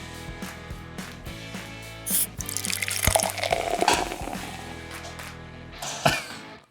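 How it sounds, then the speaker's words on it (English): Beer splashes and drips while someone drinks, a wet gush in the middle amid clinks and small knocks, close and fairly loud, ending with a brief final splash. "I got beer all over myself."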